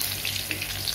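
Potatoes frying in hot oil with turmeric and salt, a dense close sizzle with crackling pops throughout the short burst.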